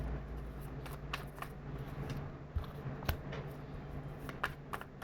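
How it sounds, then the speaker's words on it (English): Tarot cards are shuffled at close range in a quiet room, giving soft riffling and slapping sounds in irregular bursts over a low steady hum. "Shuffle for Libra."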